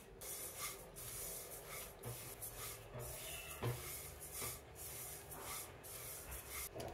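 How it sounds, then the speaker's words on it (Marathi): Fennel, sesame, carom and flax seeds are stirred in a pan over a low flame while they roast, giving a steady dry rasping and scraping, close and continuous, with occasional small knocks and no voices. "मंद गॅसवरतीच आपण एकसारखं हलवत राहून शेकून घ्यायचं की जेणेकरून करपणार नाही"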